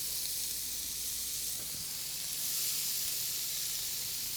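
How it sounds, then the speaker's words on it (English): Marinated chicken tikka skewers searing in a hot pan with neutral high-smoke-point oil, an even, loud, close sizzling hiss that holds steady throughout without speech. "once that marinade hit that hot pan"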